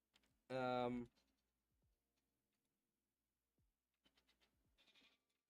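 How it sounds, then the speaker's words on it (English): Goats bleat, with one loud, drawn-out cry up close followed by a few fainter, scattered calls and small noises. "Goats are freaking out."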